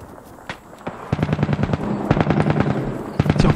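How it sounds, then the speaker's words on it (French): Close automatic gunfire in the battle royale game Cuisine Royale rattles in rapid bursts of sharp shots, with a few single cracks at first and then dense volleys that grow louder and more sustained. "Ça tire pas loin."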